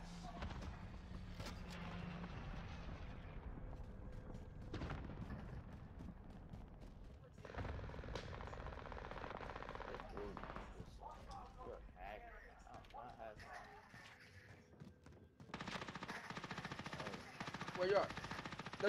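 Game gunfire from a Call of Duty match, bursts of automatic shooting with scattered single shots running through the whole stretch, steady and fairly loud, with people talking over much of it.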